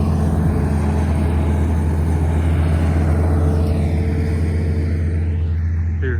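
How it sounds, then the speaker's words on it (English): A truck rolls along a road with a steady heavy rumble that fades slightly toward the end as it moves past. "I'll let this truck go by."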